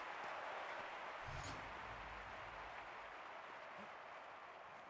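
A stadium crowd in the London 2012 Olympics video game applauds at the long jump. The clapping is a steady, wide wash that holds for the whole stretch, with a few faint voices mixed in.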